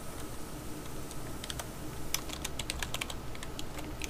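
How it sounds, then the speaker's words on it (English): Fingers clatter over a computer keyboard in quick, uneven runs of keystrokes, close and fairly quiet, with no one talking. "You just type in the variable that you want."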